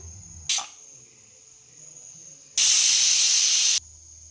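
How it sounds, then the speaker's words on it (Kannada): A pressure cooker on the stove cooking chicken gojju lets off steam, first in a short sharp hiss and then in a loud, sustained whistle-like hiss lasting about a second before cutting off. "ಲಿಡ್ಡನ್ನು ಕ್ಲೋಸ್ ಮಾಡಿದ್ದೀನಿ ಒಂದು ಐದು ವಿಜಲ್ ಬರೋ ತನಕ ವೆಯ್ಟ್ ಮಾಡಬೇಕಾಗತ್ತೆ"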